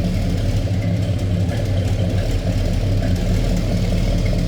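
A 1968 Chevrolet Chevelle SS with its 396 V8 idles steadily, a deep, even rumble that holds close and loud throughout with no talking.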